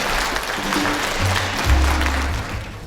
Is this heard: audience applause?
yes